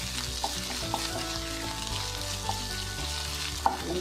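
Ginger and garlic frying in a pan for a Kerala-style egg curry, a steady dense sizzle with occasional soft stirring clicks, close and continuous, no voices.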